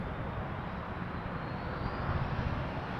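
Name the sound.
Air Canada Airbus A321 taking off from Toronto Pearson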